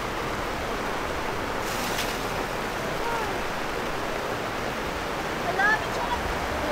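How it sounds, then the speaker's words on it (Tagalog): Heavy rain pours steadily at a riverside campsite in Tanay, a dense continuous roar like rushing water that fills the whole clip at an even level, with a brief brighter burst near the start and faint movement sounds near the end. "At bumuhos na ang ulan."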